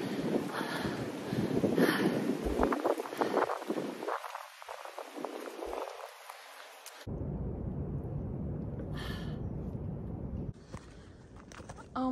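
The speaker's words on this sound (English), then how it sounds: "It's getting a little windy as I climb up out of those rhododendron" Gusty wind on a mountain section of the Appalachian Trail, heard as heavy buffeting rumble against the microphone that swells and drops. Quieter stretches of breezy hiss and a few light bumps follow.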